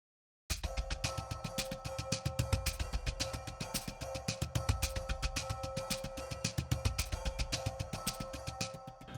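Low cinematic percussion patch named Quantum Realm, from a scoring library. Dense, rapid drum pulses churn steadily over a faint sustained tone. It is quiet, even and continuous, with no voices.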